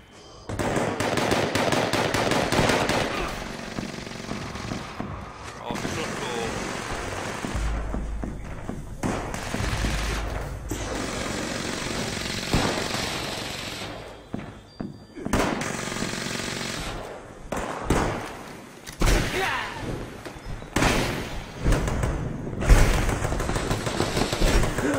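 Gunfire from a weapon in Fallout 76, sustained bursts and rapid shots running loud for about twenty-five seconds, with a few heavy booms and breaks in the firing.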